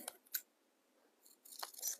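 Scissors snip paper into a tag shape for a tobacco basket pumpkin craft. A few quiet, close cuts come in short bursts separated by a near-silent gap.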